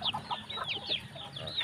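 Chinese crossbreed chickens on a farm make short, repeated high clucks and squawks in quick succession, fairly faint and close against a low background hum.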